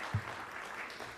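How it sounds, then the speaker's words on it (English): Faint applause from an audience at a live music show streamed from a concert, a soft, diffuse patter of clapping with one slightly louder swell near the start, heard from a distance. "so applause for me"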